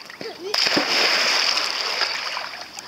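Water splashing at a nautical club pool on Reunion Island as a child swims, a sudden loud splash followed by continuous sloshing and spray, with adult talking heard briefly before it.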